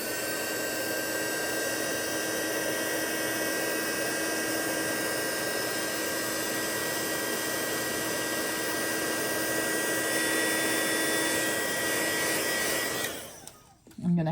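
Hair dryer blowing steadily on wet watercolor paint, a loud continuous whirring roar with a high whine that runs unbroken for about thirteen seconds before cutting off abruptly.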